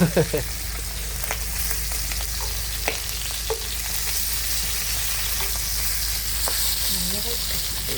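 Pork sizzles and spits steadily in a pan as lard renders out, a dense close crackle with occasional sharper pops and stirring scrapes throughout.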